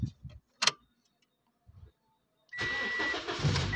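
A 2011 Toyota Yaris with an intermittent no-start fault cranks and fires up, settling into a steady close idle after a few brief knocks and clicks.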